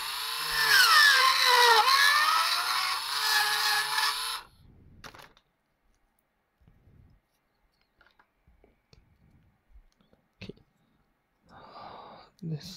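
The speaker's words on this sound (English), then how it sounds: "We'll keep drilling down." A drill bores into the cup of a pair of Grado headphones for a detachable cable mod, a loud, close, whining buzz for about four seconds, then quiet handling sounds and faint clicks.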